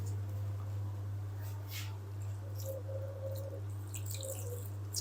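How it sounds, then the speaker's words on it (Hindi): Water trickles and drips faintly into potato pakora batter in a home kitchen, soft irregular splashes over a steady low electrical hum. "तो अब हम इसमें शामिल करते हैं पानी"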